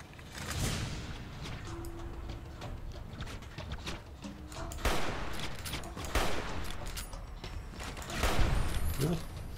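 Gunfire from the video game Fallout New Vegas, a run of repeated shots and bursts mixed with background ambience and other game sounds, fairly steady at moderate loudness with a voice speaking over it.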